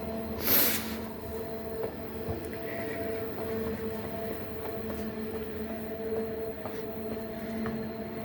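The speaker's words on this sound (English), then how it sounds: "Tram is coming" A tram rumbles along the rails, a steady mechanical drone with faint squeals and clicks, moderately close, and a sharp hiss near the start.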